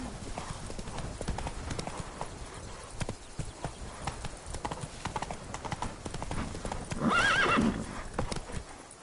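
Roach the horse in The Witcher 3 trots with steady hoof clip-clops, then lets out a loud neigh near the end, alongside occasional speech.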